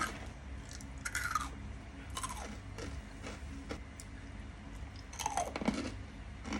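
Someone crunches and chews a crispy red velvet flavored cereal-like snack close to the mic, with sharp crackling bites recurring every second or two and no talking over them.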